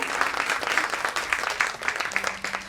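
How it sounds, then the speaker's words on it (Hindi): Audience applause for a keyboard player during a band introduction at a live music show, a steady dense clapping that stays loud throughout with no pause. "जोरदार तालियां आपके लिए"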